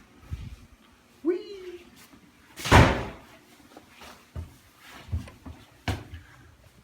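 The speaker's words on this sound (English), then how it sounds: "Let's shut the door and go up the stairs." A house door is shut with one loud, sharp slam midway through the clip, preceded by a short creak and followed by softer knocks and footsteps, with a brief voice heard early on.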